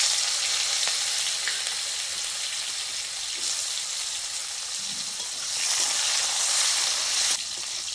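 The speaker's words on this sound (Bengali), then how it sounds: "এর থেকে বেশি করলাগুলোকে একটু মুচমুচে করে ভেজে নেব" Bitter gourd pieces fry in hot oil with a loud, steady sizzle close up, swelling briefly as they are stirred, with no voices.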